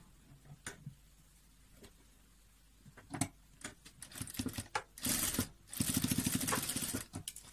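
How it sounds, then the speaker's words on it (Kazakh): A sewing machine stitching two colours of fabric together, starting with scattered ticks and clicks, then running in short bursts that grow into a steady rapid whirring stitch near the end. "Енді осы екі түсті бір-біріне қосып тігіп аламын."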